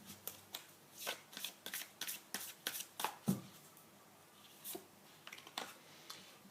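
Oracle tarot cards riffled and shuffled by hand at close range, a steady run of crisp flapping bursts with brief pauses, soft and intimate with no talk.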